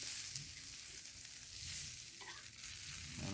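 Kendai fish frying in a pan gives a dense, steady sizzle and crackle throughout, close and continuous, with no voices.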